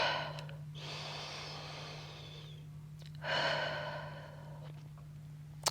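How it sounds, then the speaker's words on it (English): A person on a Pilates reformer breathes audibly in two long, close breaths with a pause between, inhaling through the nose and exhaling through the mouth, with a steady low hum in the background. "You can inhale through your nose and exhale through your mouth."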